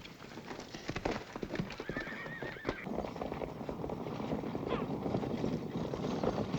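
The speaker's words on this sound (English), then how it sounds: "That is a fast-moving stagecoach." Horses' hooves clip-clop rapidly as a team pulls a fast-moving stagecoach in a 1946 Western film, the drumming steady and loud throughout, with a horse whinnying and a rumbling wheel-and-wind noise underneath.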